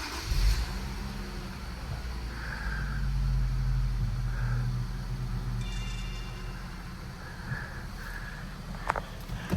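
An Infiniti Q50 idles after its first start with newly installed lower downpipes, a low, steady, slightly deep exhaust drone that holds throughout, with faint background clatter and a brief sharp tap near the end.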